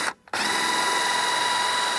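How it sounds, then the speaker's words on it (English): A power drill spins a hole saw steadily through material, a constant whirring grind that starts after a brief pause and runs on evenly at close range. "get my hole saw right in the center of it. Start that."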